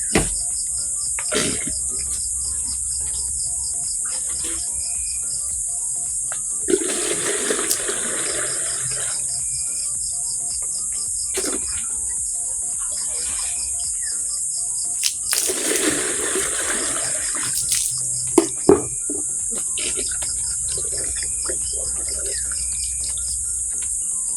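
Water drawn by hand from an outdoor well for drinking, two bursts of sloshing and splashing a few seconds each, with crickets and birds chirping steadily in the rural background and no talk.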